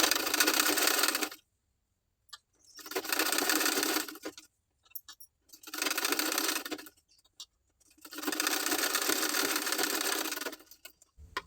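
A sewing machine runs double stitching on cloth for a blouse cup section in four separate loud bursts, each a whirring needle chatter, with near-silent pauses and small clicks between runs.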